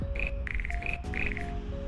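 A frog croaks in quick, repeated trills, loud and close, over a low background hum.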